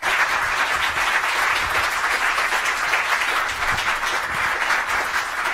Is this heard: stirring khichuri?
no